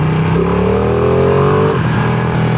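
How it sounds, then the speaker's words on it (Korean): A Ducati Panigale V2 with Desmo engine revs loudly and close on a test ride after maintenance, its engine note climbing and sliding in pitch before settling back. "엔진 소리 너무 좋고 스로틀 반응도 너무 좋고"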